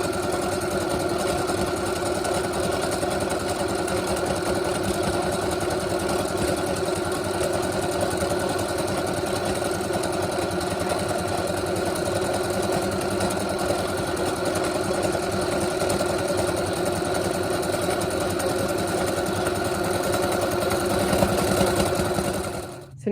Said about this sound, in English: So now you're finished with the sewing.